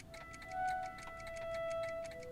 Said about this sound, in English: It's the fucking cat clocks.